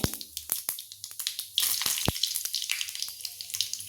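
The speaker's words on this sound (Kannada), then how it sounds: "ಸಾಸಿವೆ ಹಾಕ್ತಾಯಿದೆ ಸಾಸಿವೆ ಸ್ವಲ್ಪ ಚಟಪಟ ಆಗಲಿ ಹಾಗೆ ಜೀರಿಗೆನ ಹಾಕ್ತಾ ಇದ್ದೀನಿ" Mustard seeds and cumin spluttering in hot oil for green poha, a dense run of sharp crackling pops and sizzle close by, with no talking.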